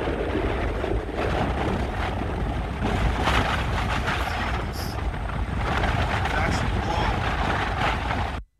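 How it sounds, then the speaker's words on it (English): Strong wind roars and buffets steadily against the microphone for the whole stretch, loud and unbroken, with muffled voices under it. "Tad bit windy."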